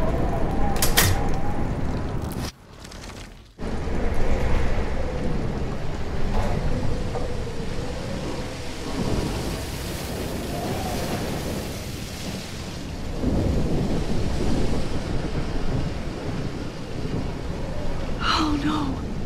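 A thunderstorm rages in the video game Life is Strange, with steady heavy rain and rolling thunder booming throughout, while a voice speaks and gasps over the downpour.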